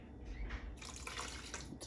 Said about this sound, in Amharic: አሁን ሌላ 1 ኩባያ ውሃ